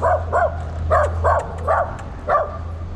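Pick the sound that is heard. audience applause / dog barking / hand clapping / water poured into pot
dog barking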